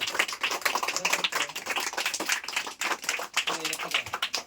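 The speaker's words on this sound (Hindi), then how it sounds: "तुम लोग भी ताली बजाओगे" Children in a classroom clap in quick, uneven bursts, a scattered patter of small hands fairly close, with a brief voice or two mixed in.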